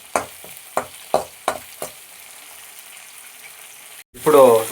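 Kashmiri chillies fry in a pan for dragon chicken. A run of sharp utensil taps against the pan is followed by a short quiet stretch, then a sudden burst of sizzling close by.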